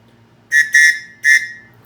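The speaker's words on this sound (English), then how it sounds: "So here's the whistle, 3 chambers. I'm going to give it a blow real quick." A three-chamber whistle from a paracord survival kit is blown in three loud, shrill blasts, the first two close together and the third after a short pause, with a chordal, train-horn-like tone.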